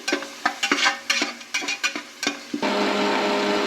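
Onion with ginger garlic paste frying in ghee, stirred with a utensil that scrapes and taps the pan in a run of short strokes, then settles into a steady, close sizzle with no voices.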